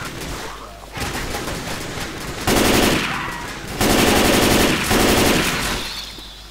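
Rapid automatic gunfire in Left 4 Dead 2 on The Passing campaign, loud sustained bursts that stop and restart several times, close and dense with brief gaps between volleys.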